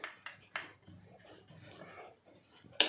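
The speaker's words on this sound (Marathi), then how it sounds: "बघा या पद्धतीने आपल्याला लाटून घ्यायचं आहे" A rolling pin works shankarpali dough thin on a board, with soft rubbing strokes and light knocks in an irregular rhythm, faint and close.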